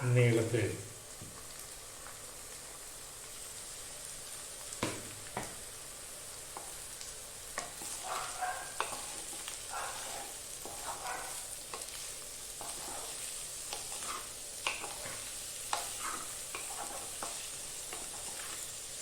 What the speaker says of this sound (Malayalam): സവോള ഒന്ന് വെന്ത് വരണം